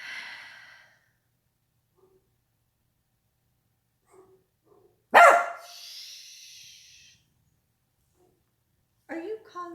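A neighbour's dog barks once nearby, a sharp loud burst followed by a short trailing whine, with a few fainter sounds after it amid otherwise quiet indoor surroundings.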